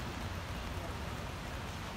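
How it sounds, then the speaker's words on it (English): Pouring rain at an outdoor dedication ceremony in Springfield, Oregon, a dense steady hiss of heavy rainfall filling the whole moment, with no voices heard. "I would get closer, but it's pouring down rain,"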